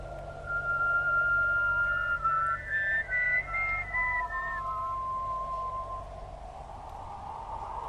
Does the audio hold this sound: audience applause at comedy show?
no